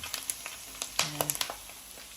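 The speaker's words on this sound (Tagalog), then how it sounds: "mag-a-add lang ako ng konting mantika lang guys para maprito na siya." Pork frying in a little oil in a pan for a Filipino humba dish, giving faint crackling sizzle with scattered sharp pops and light stirring clicks, close by.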